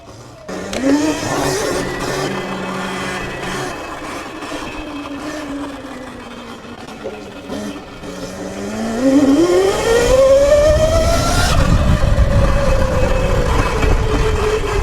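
An electric dirt bike ridden around a skate park, its motor giving a loud, continuous whine that dips and climbs in pitch as it slows and speeds up over the ramps, close by and without talk.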